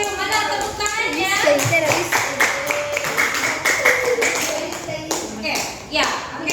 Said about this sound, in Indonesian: Give applause to your friends.